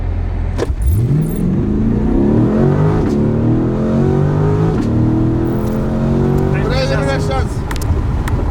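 A rear-wheel-drive car accelerating hard, its engine note climbing through several gears with rising sweeps and brief drops at each shift, loud and close from inside the cabin, with people talking over the roar.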